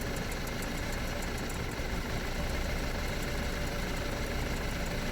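A Carsun multifunctional digital car tyre pump runs at full power inflating a wheel, giving a steady, loud motor drone with a rattling buzz that holds constant throughout.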